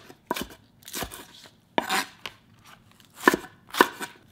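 A knife cuts large green onion on a board in about eight crisp, separate chops, spaced unevenly and heard up close with nothing else around them.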